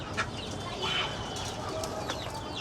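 Chickens clucking and flapping about outdoors, several short clucks and rustling over a dense, noisy background, moderately close.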